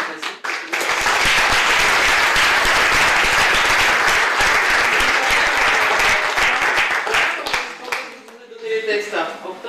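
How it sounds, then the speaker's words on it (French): An audience in a theatre applauds after a performance of an original stage creation, loud dense clapping sustained for several seconds before thinning out, with voices emerging near the end. "Je crois vraiment qu'on peut les applaudir"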